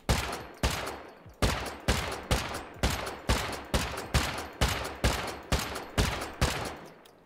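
Explosive ammunition fired at a base fence in the survival game Rust, heard as a steady string of about fourteen loud, evenly spaced gunshots, each with a short decaying tail, close and with no talking.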